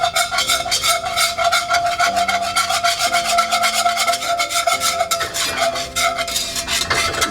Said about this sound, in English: Whisk the crap out of it.